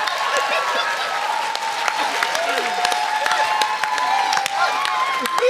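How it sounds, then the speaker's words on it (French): Live studio audience at a Quebec talent gong show applauding and cheering steadily, a dense wash of clapping with shouts and whistles rising through it, loud and sustained from start to finish. "êtes-vous prêts pour des applaudissements?"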